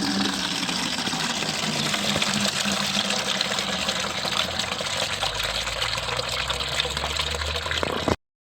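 Water from a tap gushes steadily into a paint bucket, a continuous loud splashing fill with a low rumble beneath that cuts off abruptly at the end.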